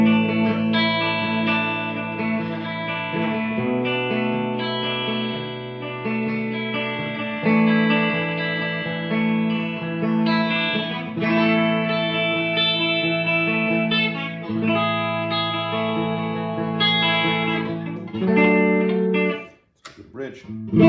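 Clean electric guitar plays ringing chords and arpeggios with a warm, smooth tone, sustained throughout before a brief drop near the end.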